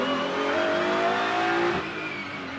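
A GT race car accelerates flat out through a turn at Indianapolis, its engine note climbing hard and loud before abruptly dropping off as the driver lifts, heard alone without voices.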